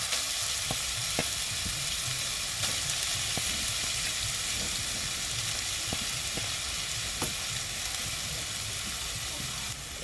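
Grated potato fries in hot oil with whole cumin seeds, a loud, continuous sizzling hiss with occasional sharp pops and crackles, close up and without pause.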